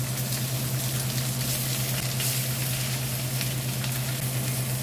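Chicken pieces laid skin down in hot oil in a cast iron skillet sizzle and crackle steadily and loudly, a continuous close frying hiss with no voices.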